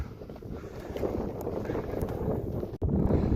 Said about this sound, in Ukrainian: Шалений вітер